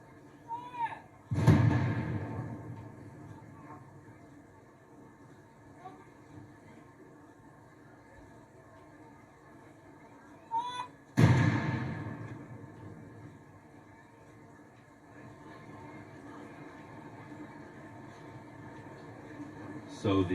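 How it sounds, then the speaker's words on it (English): Ceremonial artillery gun salute in London for the Platinum Jubilee: two heavy booming rounds about ten seconds apart, each a deep thud with a rolling echo, heard at a distance over steady crowd murmur and talk. "So the gun salute is happening, and it's being felt and heard all around this part of London"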